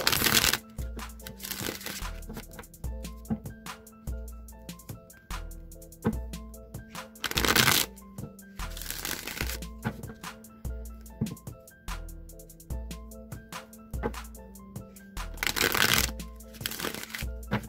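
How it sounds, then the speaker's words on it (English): Tarot cards are shuffled repeatedly in crisp riffling bursts, heard close over soft background music with a steady beat. "So let me just give these a few shuffles."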